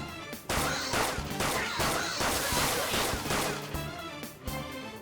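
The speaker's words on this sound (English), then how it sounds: "Point it at the shadow and fire." Rapid game gunfire from Persona 5 Royal aimed at a shadow, a dense barrage of sharp shots and impacts layered over music, loud and continuous with brief dips.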